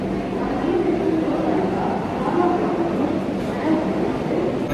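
A crowded railway station in Kolkata where the train for Patna stands ready beside a stopped local train, heard as a steady, dense rumble of platform noise and crowd bustle with voices mixed in throughout.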